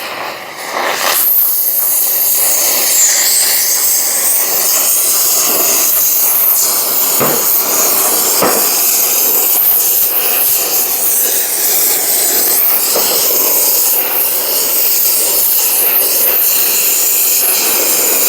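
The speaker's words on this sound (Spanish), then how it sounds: "vamos a precalentar la zona de soldadura" Gas torch roaring steadily as it preheats the weld zone of a broken Eaton 16-spline axle shaft, a loud continuous hiss with occasional scraping and clinking in the background.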